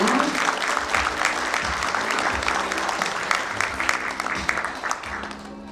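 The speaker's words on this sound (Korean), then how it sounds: "박수 부탁드립니다." Steady, loud applause from an audience at a Korean records-culture awards ceremony, sustained clapping for several seconds without a break.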